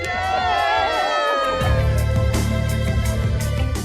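A crowd of fans cheers outside a hospital for a royal birth, with loud whoops and shouts. A sustained high vocal tone sits over the noisy crowd and swells as the cheering builds.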